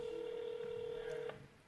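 A telephone rings during a talk-show podcast, a steady electronic tone held for over a second before cutting off, fairly clear and alone.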